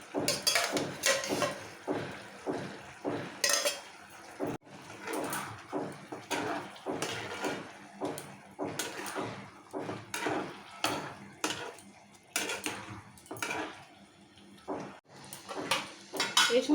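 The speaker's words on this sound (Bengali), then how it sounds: "দিয়ে দিচ্ছি ফ্রাই করা চিকেনগুলো।" Fried chicken pieces tip into chilli chicken gravy in a pan and get stirred, with a series of repeated metal scrapes and clinks of a spoon against the pan in an irregular rhythm, close and fairly loud.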